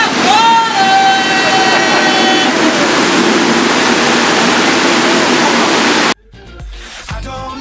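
Loud, steady rush of falling water behind the Magic Kingdom's backside-of-water waterfall, a broadband roar that fills the scene while voices and a whistle-like tone sound over it, then cutting abruptly to quieter chatter.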